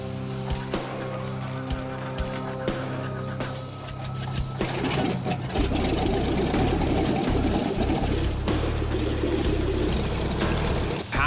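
Vintage World War II-era piston engines on a Buffalo Airways propeller plane run with a steady droning hum that shifts to a louder, rougher roar partway through.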